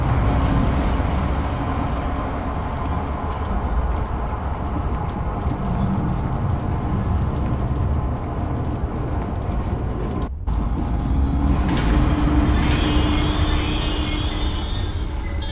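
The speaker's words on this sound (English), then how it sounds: "Now, select the giraffe enclosure on the control panel and start the train." A train in the Zoochosis horror video game, set in motion toward the giraffe enclosure, rumbles loudly and continuously with a dense mechanical roar, with a brief cut partway through and a slight change in tone afterward.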